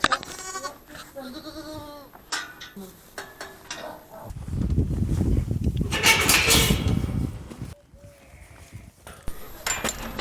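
A ewe and her lambs bleat in a sheep shed during lambing, several short wavering calls at close range, mixed with a gate or door rattling and a burst of rustling straw and movement.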